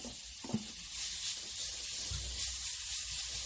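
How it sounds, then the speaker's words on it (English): Marinated beef sizzles in a hot wok, a soft steady hiss with occasional faint stirring knocks, fairly quiet and unbroken. "I'm going to throw this in my wok, and you're going to hear the sizzle"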